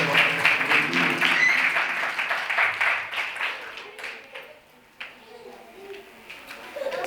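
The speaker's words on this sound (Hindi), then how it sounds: "हम कलाम रब्बानी के जोरदार ताली बजाते हैं।" A church congregation claps loudly for about four seconds after a call to praise, then the applause thins into scattered claps and murmuring voices.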